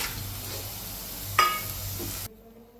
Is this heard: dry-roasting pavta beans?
yes